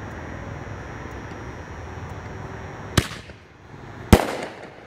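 Two sharp, loud bursts from an Ammo Bomber 1 inch canister firework shell, the first near three seconds and a stronger one just past four, each a broadband crack fading into outdoor background hiss.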